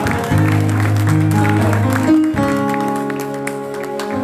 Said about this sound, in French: Si tu l'aimes, acclame Jésus